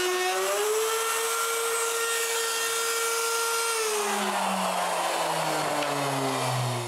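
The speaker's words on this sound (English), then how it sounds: "clean the rest of the mortise with a straight bit and a template guide" A router fitted with a straight bit and template guide cleans out a wood mortise for a moveable workbench leg, giving a loud, steady high whine that holds, then drops in pitch as the bit cuts. No talk is heard.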